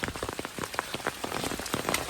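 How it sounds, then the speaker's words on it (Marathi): Heavy rain patters steadily on a hard surface nearby, with dense irregular drops and splashes and no talking. "पाऊस भरपूर"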